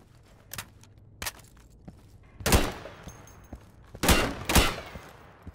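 Gunfire from the Insurgency video game: a few sharp single shots followed by two louder, closer bursts of fire, with no talking.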